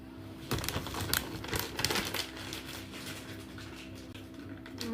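A plastic bag crinkles and rustles in a home kitchen during cooking, a run of close, irregular crackling bursts over steady low background hum, busiest in the first half and thinning out toward the end.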